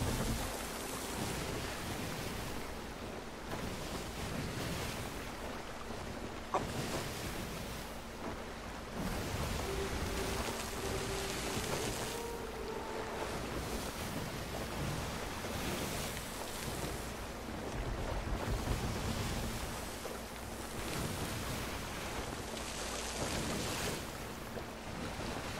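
A ship sails across ocean waves in the video game Sea of Thieves, with a steady wash of surf and wind rushing continuously and evenly throughout, loud and close with no talking.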